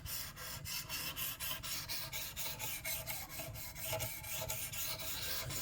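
A PL-XE blade is honed on a smooth, fine-grit stone, giving a steady run of soft, evenly spaced rasping strokes that stay close and fairly quiet with no voices.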